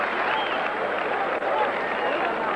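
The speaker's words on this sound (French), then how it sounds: "Et madame applaudit" Spectators applaud at the 1984 Roland Garros semi-final between Connors and McEnroe, a broad, steady patter of clapping filling the space for a few seconds with crowd noise around it.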